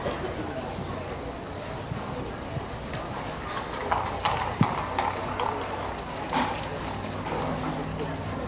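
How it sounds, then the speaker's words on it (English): Tennessee Walking Horses move around the show grounds at the Equine Extravaganza in Doswell, Virginia. Their rhythmic clip-clop hoofbeats sound at moderate distance beneath someone talking over a public address system. "Another thank you to the walking horses."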